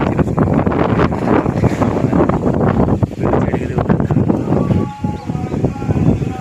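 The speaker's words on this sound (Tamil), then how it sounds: "கண்டிப்பாக காற்றுல பாருங்கள் என்னென்னமோ பறக்குது" Strong wind buffets the microphone in continuous loud gusts, roaring and rumbling with no pause throughout.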